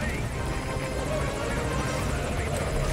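A helicopter in the video game Metal Gear Solid Ground Zeroes, its rotor thudding in a loud, steady, dense roar throughout, with a voice talking over it.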